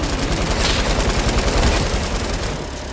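Dense, loud rattling gunfire from a Fortnite beach assault, continuous and close throughout with no voices.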